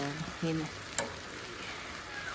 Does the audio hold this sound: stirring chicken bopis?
yes